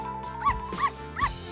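A dog sniffing at a box of bath bombs in a bathroom whimpers and yips in three short, high, close bursts spaced evenly over a steady background hum.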